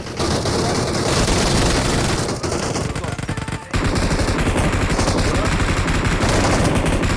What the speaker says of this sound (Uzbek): Kim otyapti 249 da?